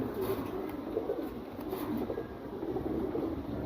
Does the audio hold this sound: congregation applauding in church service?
no